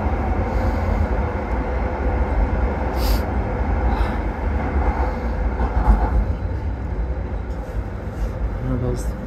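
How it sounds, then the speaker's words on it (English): An Edmonton LRT Siemens SD-160RT light rail train passes northbound near Corona Station, a steady loud rumble of wheels and motors on the rails that fills the whole stretch, with faint high squeals now and then. "There goes the northbound SD-160RT."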